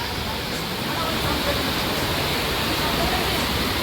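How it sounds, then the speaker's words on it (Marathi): Heavy rain pours down in a dense, loud, continuous roar of broadband hiss that fills the whole stretch without letting up. "नुसता पाऊस धूम धडाक्याचा पडत आहे."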